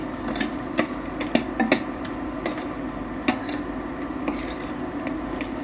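Whole spices including marathi moggu and stone flower frying in a pan for kuska rice, with a low sizzle under repeated sharp metallic clinks and scrapes of a spoon stirring against the pan.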